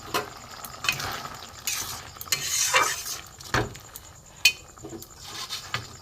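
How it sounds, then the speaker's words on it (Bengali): Vegetarian ghugni bubbling and sizzling in a pot, with a spoon stirring and scraping now and then; close, moderately loud, with short clinks against the metal and no talk. "একটু ফুটুক ভালো করে।"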